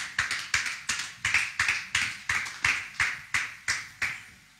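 A church congregation claps together in a steady, even rhythm, about three sharp, loud claps per second, with no talking over them.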